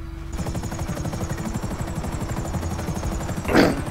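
Helicopter in the game GTA 5, a steady rotor thump with a high engine whine running throughout, loud and close, with a brief louder burst near the end.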